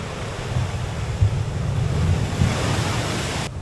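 Sea waves wash ashore toward houses on a stone-lined coast, a steady roaring surf mixed with wind noise, with no voices.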